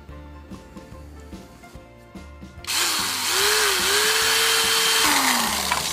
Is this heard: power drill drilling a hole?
yes